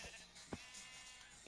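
A single brief sheep bleat sounds in a crafting survival game, a quick faint cry at a moderate distance over a quiet, even background.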